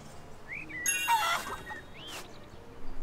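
Video game chicken clucking in ArcheAge, a few short high clucks and a rising squawk over a faint background, fairly quiet and clear with no talking.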